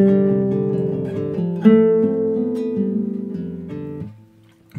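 A classical guitar plays a melody fairly fast, with clear plucked notes ringing over a bass line for several seconds before fading, solo and close.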